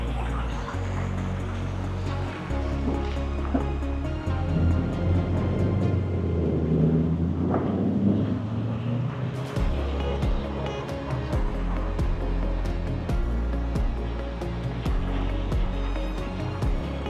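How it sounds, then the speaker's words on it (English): Steady rushing splash of the fountain at Caesars Palace, Las Vegas, a continuous wash of water with low rumbling traffic and crowd murmur underneath, faint voices now and then. "And here's this beautiful fountain right here."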